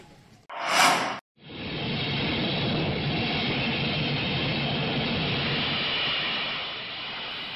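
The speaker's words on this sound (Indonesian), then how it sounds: "Menggunakan pesawat Angkatan Udara" An Indonesian Air Force aircraft roars steadily at close range, a broad continuous engine rush after a brief loud whoosh at the start, with no voices.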